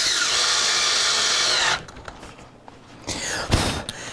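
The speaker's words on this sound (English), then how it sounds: "I went in and drilled a bigger hole in the babinga" A power drill bores a hole into hard bubinga wood, a loud steady whine for nearly two seconds, then quieter handling noises and a couple of short bursts.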